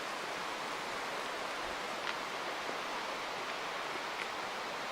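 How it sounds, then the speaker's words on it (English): A Yosemite waterfall rushing down a granite spillway in autumn, heard as a steady, fairly quiet broadband hiss and roar that holds evenly throughout, with no voices. "they say it's the largest, the tallest waterfall in North America, 5th largest in the world"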